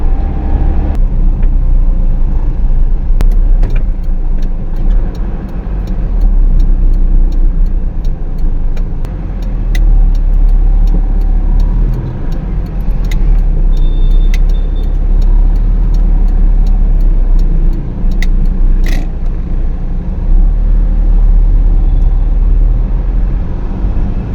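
Steady, loud rumble of road traffic heard from inside a vehicle on a highway heading to BGC Taguig, with a continuous low engine and tire drone and occasional faint clicks.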